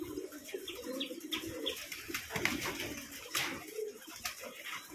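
About a hundred pigeons on a farm coo softly and repeatedly, several birds overlapping in a low murmur with rustling and faint chirps around them.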